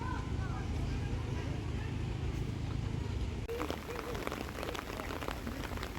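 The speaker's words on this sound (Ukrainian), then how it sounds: "Нарешті пішов дощ" Steady rain patters down with a dense hiss of drops, shifting partway through to sharper, closer drips on a surface.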